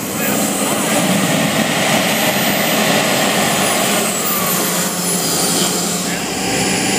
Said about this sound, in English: The only turbine here today that I see spooling up.